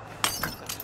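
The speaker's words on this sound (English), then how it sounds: "let's chuck a glass bottle over there" Glass bottle thrown and shattering in the We Happy Few video game, a sharp crash with tinkling shards followed by smaller clinks, moderately loud and heard alone.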